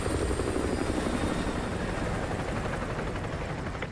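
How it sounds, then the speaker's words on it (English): Helicopter flying overhead in the video game Modern Warfare 2 Remastered, a steady loud rotor thrum and engine whine holding constant throughout. "Chopper inbound. Keep low."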